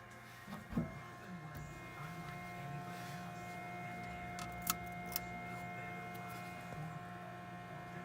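A 3D printer at work printing a miniature butter knife, giving off a steady mechanical hum with faint whirring motor tones and a soft clack near the start, close by with no talking.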